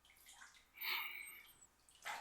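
Warm bath water with soap bubbles sloshes in a bathtub: a quiet, close splash and a brief second swish.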